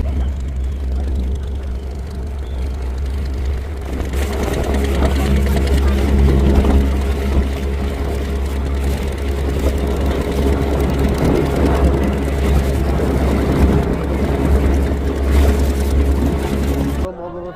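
A boat engine drones at a river ghat on the Triveni Sangam at the Prayagraj Kumbh Mela, a steady low rumble close by that continues under ambient noise.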